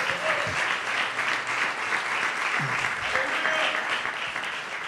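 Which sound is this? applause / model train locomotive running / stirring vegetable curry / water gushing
applause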